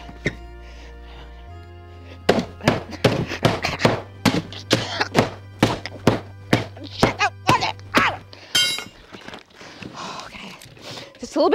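Repeated hammer blows strike a box lid, a steady run of sharp thunks at roughly half-second intervals over a low hum, followed by a few more scattered knocks, with voices around it.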